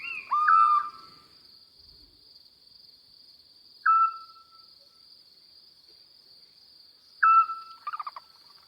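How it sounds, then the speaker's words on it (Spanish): Scops owls give short, clear whistled notes at well-spaced intervals, each brief and fairly loud against a steady high insect drone of night ambience, with no voices present. "silban los autillos"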